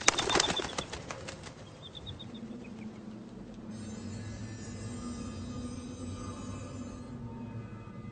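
Wings flap as a bird flies off in a French fantasy film, a brief burst of flapping up front followed by a steady low background wash with faint high chirps.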